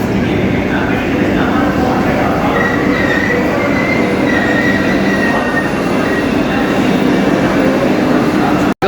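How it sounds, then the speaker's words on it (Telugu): A saffron-coloured Vande Bharat Express running at speed, a loud continuous rumble of wheels on rails with rhythmic rattling and faint squeals, heard from on board. "మనది సాఫ్రాన్ వందే భారత్ అన్నమాట"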